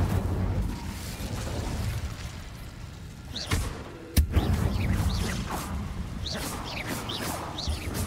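A fire spell, Incendio, cast in the video game Hogwarts Legacy: a sharp burst, then a second louder crack a moment later, over steady game ambience with faint chirping effects.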